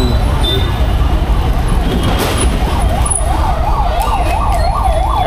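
An ambulance siren wails in Hyderabad city traffic, its rising and falling tone repeating loudly and steadily over engine and road noise, with voices talking beneath it.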